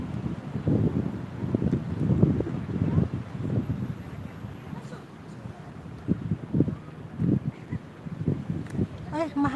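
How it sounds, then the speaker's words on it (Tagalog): Low, gusty wind buffets the microphone in uneven bursts at a seaside park walkway, rumbling steadily through the whole stretch. "Ay, mahangin."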